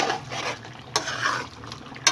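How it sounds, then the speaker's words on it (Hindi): Chicken kofta curry being stirred in a pan, a spoon scraping and clinking against the metal in steady strokes with two sharper knocks, soft frying hiss underneath. "अब इसको हिलाएंगे हम सालन को"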